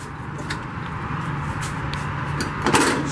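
Solid entry steps on a 2021 Coachmen Catalina Legacy Edition 243RBS travel trailer are lifted and stored into the door, giving a few faint clunks and a firmer knock near the end over steady outdoor background noise.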